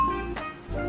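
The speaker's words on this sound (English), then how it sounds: "Hit that notification bell." A notification bell sound effect gives a quiet electronic chime, a couple of brief tinkling dings spread over less than a second, alone without voices.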